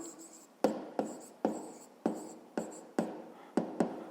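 Writing out a maths solution for a fifth-grade exercise: about eight sharp, close tapping strokes at uneven intervals, each trailing off quickly, with no talking.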